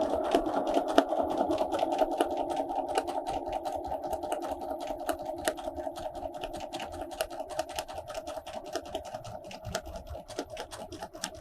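A sewing machine runs continuously at an even speed, stitching through paint-decorated fabric with a steady mechanical hum and rapid needle ticking. It plays alone at moderate loudness.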